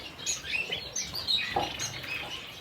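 Amadina finches, a pair of young birds with their father, in an aviary setup giving several short, high chirps scattered irregularly across a quiet background, with some light pattering movement.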